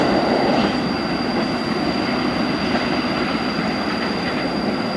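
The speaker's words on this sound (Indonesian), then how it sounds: "Mantap ya kereta api Fajar Utama Solo." The Fajar Utama Solo express train, bound for Solo Balapan from Pasar Senen, rushes past close by in a continuous loud roar of wheels on rails with a thin high squeal riding over the rumble.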